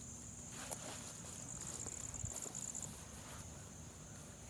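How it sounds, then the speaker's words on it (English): Crickets chirp at dusk in a freshly mowed outdoor area, a faint, continuous high-pitched trill running steadily beneath a quiet background with a few soft rustles. "There's a bunch of crickets."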